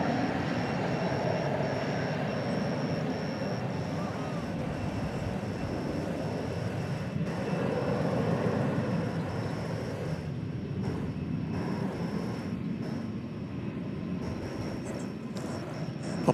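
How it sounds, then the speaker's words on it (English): A Frontier Airbus A321neo airliner at DFW airport gives off a steady, moderately loud jet engine rumble that swells slightly midway, continuous and distant-sounding at night. "Upon the tail of that Airbus A321neo"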